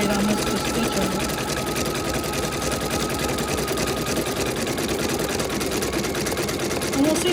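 A sewing machine runs continuously while stitching a circle roughly three inches across, giving a steady, close, mechanical whir that holds without a break throughout.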